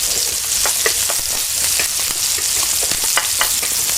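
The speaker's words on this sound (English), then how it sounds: "saute the garlic for about 15 seconds or so to release the aroma and the flavor" Garlic sautéing in butter in a skillet, a bright, steady sizzle dotted with rapid crackles and pops throughout, loud and close with no voices.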